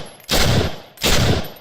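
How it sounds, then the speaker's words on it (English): Two sharp, loud semi-automatic gunshots from a closed-bolt rifle in the video game BAM, evenly spaced about 0.7 seconds apart, each with a short decaying tail. "now it is firing from a closed bolt"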